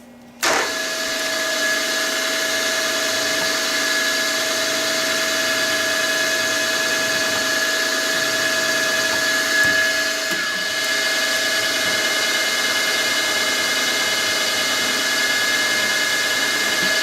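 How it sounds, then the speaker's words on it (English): A spotting drill cuts metal on a lathe, with a steady loud machine drone carrying a constant high whine that begins abruptly and runs on unbroken, close and without talk. "So let's start with the spotting drill"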